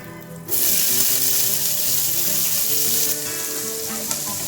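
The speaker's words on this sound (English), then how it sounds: "Now as the oil is heated up, we will add 1 chopped onion," Chopped onion drops into hot refined oil and bursts into a loud, steady sizzle that continues evenly, easing slightly toward the end, with no voices.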